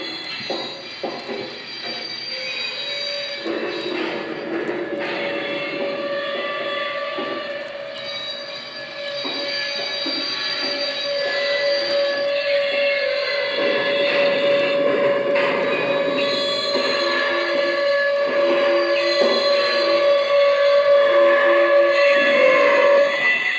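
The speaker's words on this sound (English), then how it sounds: "now I'll slow the train down using the train brake" A Lionel model train pulling PFE and Santa Fe reefer cars runs steadily with a sustained whining tone and light clattering, the sound shifting gradually as it slows under train brake, with no talking.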